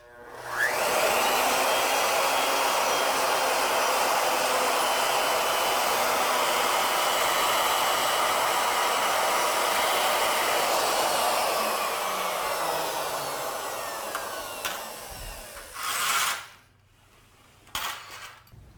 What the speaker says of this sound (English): And of course we'll do that as we bring the router in from the side.